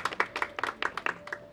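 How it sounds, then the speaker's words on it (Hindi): An audience claps at a Bhojpuri film event, a steady patter of many hands at moderate distance, fairly faint, with no one speaking over it. "अब इस फिल्म के हीरो पवन सिंह जी के लिए एक जोरदार ताली बजाइए"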